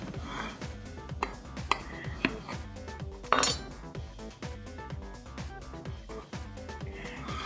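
A knife or spatula scrapes and clinks against a pan while a slice of crisp-edged frittata is cut, giving a series of close metallic taps and scrapes over low background noise.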